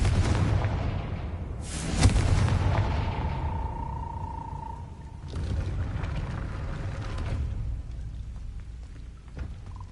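A Confringo fire spell explodes in Hogwarts Legacy with a sharp, loud boom and a crackling tail, followed by a rising tone and a second softer blast over a steady rumbling game backdrop.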